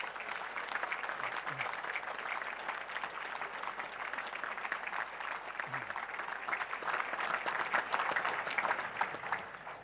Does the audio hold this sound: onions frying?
no